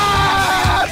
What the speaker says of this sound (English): A scream.